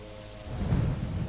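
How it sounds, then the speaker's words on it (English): Thunderstorm in the airport management game Airport CEO, a low rumble of thunder swelling over steady rain hiss, brief and moderately loud. "look, there's a thunderstorm there."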